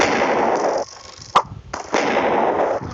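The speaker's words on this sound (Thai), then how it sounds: "มันจะระเบิดอะ" A single sharp blast cracks out between stretches of dense, noisy game sound, followed by a brief lull and then the roar resuming.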